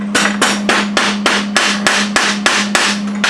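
A hammer strikes metal about ten times at an even rhythm, flattening a piece for welding, each blow a sharp ringing clang close by with no talk.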